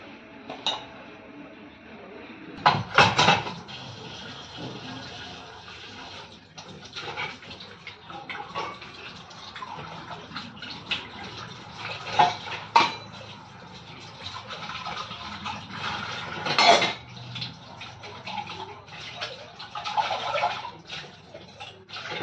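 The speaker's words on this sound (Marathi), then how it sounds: "आणि मंडळी आता आपली भांडी पटापट घासून घेऊया" Dishes, pots and pans are scrubbed and rinsed at a home sink, with running water, intermittent clinks and scraping, and several louder clattering bangs spread across the stretch.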